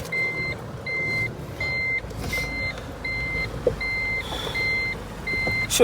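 A vehicle pulls over and reverses to park on a rainy roadside, its reverse alarm giving eight evenly spaced, clear beeps over a low engine rumble.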